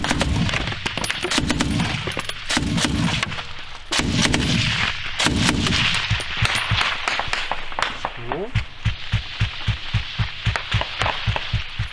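Sustained gunfire at a frontline position, bursts of machine-gun fire and single heavy shots cracking close and loud, with rapid evenly spaced reports toward the end; people speak between the shots.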